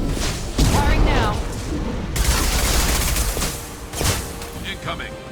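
Mass Effect 2 combat with bursts of rapid gunfire and booming impacts layered over each other, loud and dense, with a voice briefly calling out among the shots.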